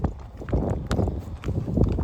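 Saddled horses walk along, their hooves clip-clopping in an uneven, fairly close rhythm of repeated thuds and knocks.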